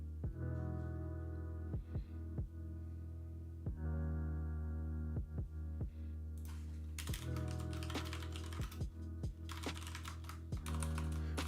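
Steady computer keyboard typing during a coding session, with rapid key clicks in bursts and a few louder spacebar-like thumps, close and alone over a constant low hum, with brighter clatter in the second half.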